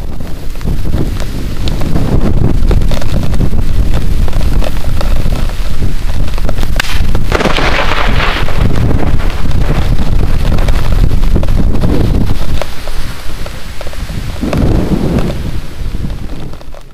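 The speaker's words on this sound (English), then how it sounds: "here's an example of what the thing sounds like when a lightning strike happens" A loud, sustained crackling roar from a lightning strike on power lines, rough and noisy throughout, swelling briefly midway before easing slightly at the end.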